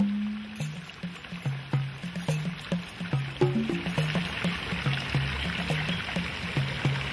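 A babbling brook in a tropical garden at a Jamaican resort, water trickling and gurgling steadily with small splashes, fairly close and alone, while a soft background tone keeps repeating.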